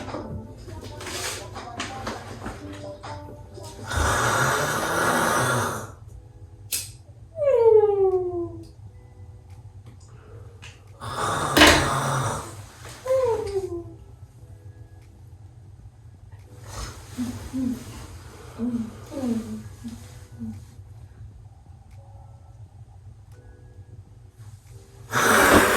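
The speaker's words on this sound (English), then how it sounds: "You snoring loud as hell." Loud, harsh snoring comes from a sleeping man in a bedroom, with several rasping, drawn-out snores and squeaky breaths spaced apart, and people talk between and over them.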